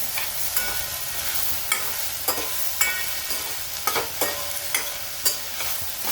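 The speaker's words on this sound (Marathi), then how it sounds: "आता आपण याच्यामध्ये अद्रक आणि लसण टाकलं, त्याला पण आपण याच्यात परतून घेणार आहे" Ginger and garlic sautéing with onion in a pan, an even sizzle broken by regular spatula strokes and scrapes roughly every half second, close and without voices.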